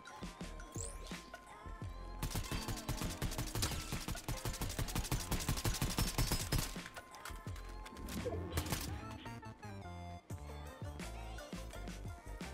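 Video game gunfire crackles in rapid bursts of sharp, dense reports, loud through the middle and tapering toward the end, with mechanical clatter between shots.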